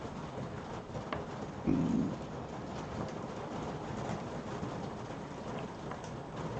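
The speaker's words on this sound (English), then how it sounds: "I can hear the rain on your roof." Rain falls steadily on a roof as a soft, even hiss of drops that stays faint and constant throughout, with one brief louder patter partway through.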